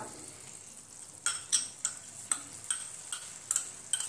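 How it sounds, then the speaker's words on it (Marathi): Grated fresh coconut is stirred into melted jaggery in a pan for modak filling, with a soft sticky sizzle under a regular series of spoon taps and scrapes against the metal. "आपण आता त्यामध्येच खोबरं टाकून घेऊया"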